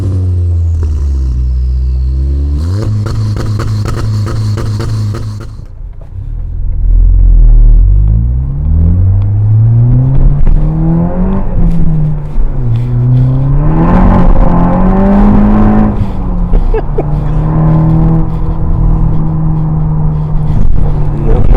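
A Škoda Octavia VRS with about 350 horsepower idles and then revs repeatedly, its engine note rising and falling in several loud, close sweeps with a deep rumble underneath.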